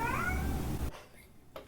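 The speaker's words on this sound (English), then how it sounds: "My cat is meowing outside the door." A cat meows outside a closed door, a single drawn-out, fairly loud cry that cuts off abruptly, followed by a faint short sound.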